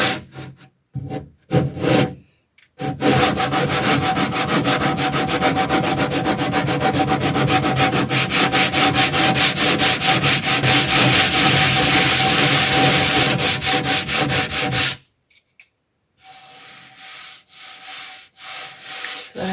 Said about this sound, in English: so I'm going to go ahead and sand it